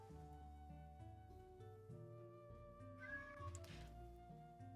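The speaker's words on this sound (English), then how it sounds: "cat sitting outside my door and screaming at me" A cat meows outside a door, a couple of faint drawn-out cries heard under louder background music.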